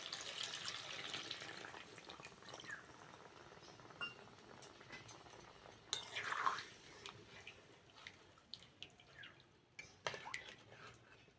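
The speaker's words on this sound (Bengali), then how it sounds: "এবার জল দিয়ে দেবো" Water is poured or trickles into a pot of Kashmiri aloo dum, a faint splashing with small drips and clinks of utensils, quiet and close, with no voices.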